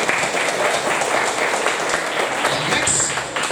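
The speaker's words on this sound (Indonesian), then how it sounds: "Tepuk tangan dulu buat Tuhan." Audience applause at a school gathering in Kaimana, West Papua, a steady wash of many hands clapping at moderate volume for several seconds without pause.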